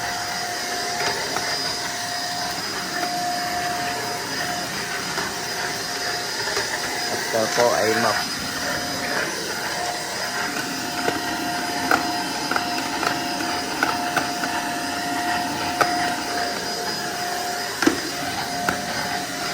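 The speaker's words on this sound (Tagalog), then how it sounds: "Vacuum muna natin." A vacuum cleaner runs over the stairs of a house during general cleaning, a steady close drone with scattered clicks and knocks while a person talks over it.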